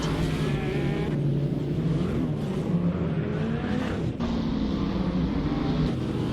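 At a race start in a racing video game set in Canada, engines of many race cars roar together, dense and loud, with revving and shifting pitch as the pack pulls away; no voices over it.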